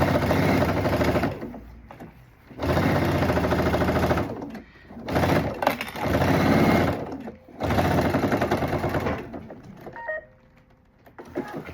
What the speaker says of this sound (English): Of course, not all sewing machines will be able to sew through leather.